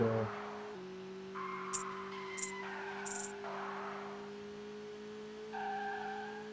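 Engine drone and tire squeal from cars drifting in the Skiddy Car racing video game, a steady synthetic hum with short skid bursts layered on top, no talking.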